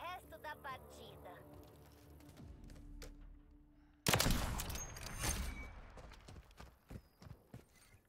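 Gunfire in the video game Call of Duty Modern Warfare erupts halfway through as a loud, dense burst of rapid shots, then continues as scattered cracks, with lighter game sounds before it.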